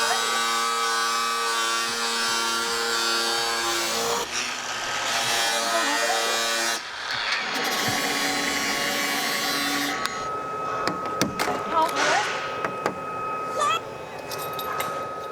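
A spark-throwing power tool cuts into metal around the fender area of a 2023+ Chevrolet Colorado ZR2 pickup, giving a loud, steady whine that shifts pitch and then breaks into rough grinding bursts.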